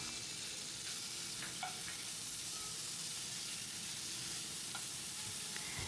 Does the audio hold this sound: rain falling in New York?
no